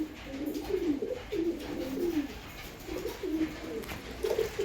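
A male Malbai pigeon coos in repeated soft, throaty phrases, each lasting under a second, close by and quiet, with faint bird chatter behind.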